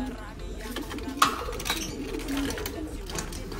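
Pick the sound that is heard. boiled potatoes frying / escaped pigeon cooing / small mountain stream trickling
escaped pigeon cooing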